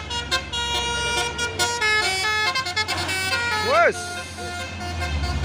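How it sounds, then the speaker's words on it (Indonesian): A Hino truck sounds its melodic telolet horn, a loud run of bending tooting notes among road traffic noise, with people talking nearby. "Pasukan truk Hino ini, wes ada telolet nah"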